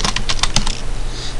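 A name gets typed on a computer keyboard, a quick close burst of crisp key clicks in an irregular rhythm that stops after about half a second, followed by quiet room tone.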